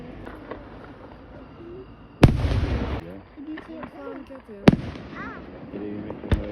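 Several sharp fireworks bursts at an Italian festival, loud and booming, spaced a couple of seconds apart, with people chattering and calling out between them.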